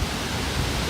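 Water at a waterfall roars in a dense, continuous broadband wash, loud and close, with no other sounds breaking through this brief moment.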